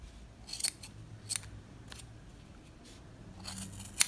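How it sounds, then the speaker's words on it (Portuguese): Scissors snipping leftover scraps of old denim jeans after sewing, a few quiet crisp cuts spaced about a second apart in a calm room, with a final sharp snip at the end. "Agora vamos cortar esses pedacinhos aqui que sobrou"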